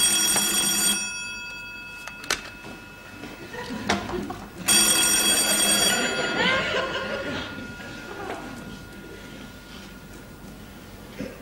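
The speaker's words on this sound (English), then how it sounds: "That's the phone." An old-fashioned telephone bell rings loudly in bursts inside a department store during a British sitcom scene, the rings separated by pauses, with chuckles and speech murmuring around them.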